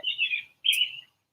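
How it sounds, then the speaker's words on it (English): A robin sings close by, with two quick bright chirping phrases separated by a short pause, clear against a quiet background. "the robin is singing"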